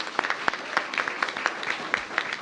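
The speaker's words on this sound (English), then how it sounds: "Give yourselves a big round of applause" Applause from parents, students and staff at a back-to-school event at Watkins school, a steady patter of many hands with sharper individual claps standing out, continuous and moderately loud.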